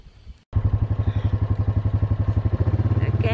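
Four-wheeler ATV engine chugging in rapid, regular pulses as it rides across a bumpy field, loud and close after a brief cut, with a steady thumping rhythm.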